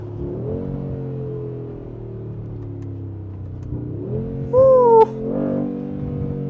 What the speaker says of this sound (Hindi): cracks and pop, take a listen from the outside.